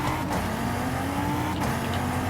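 A Barracuda muscle car engine in Forza Horizon 5 drones steadily with a deep, throaty rumble, pitch shifting slightly as gears change, loud and continuous.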